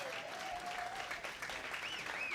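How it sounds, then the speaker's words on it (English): An audience gives another round of applause for women's basketball head coach Brooke Wyckoff, soft, steady clapping from a modest crowd with faint whistling or cheering tones rising over it. "Another round of applause for your head coach"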